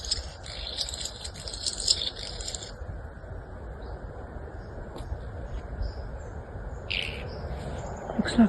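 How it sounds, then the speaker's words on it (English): A scissor grinder bird, the restless flycatcher, calls on an Australian homestead, giving a burst of high, rasping notes followed by scattered shorter calls over soft outdoor background noise. "That little bird is a scissor grinder."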